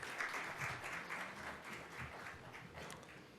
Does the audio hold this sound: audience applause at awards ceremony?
yes